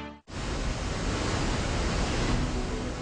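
Niagara Falls roars as a vast waterfall, a dense, steady broadband rush that cuts in abruptly and holds loud and unbroken for three seconds with no voices.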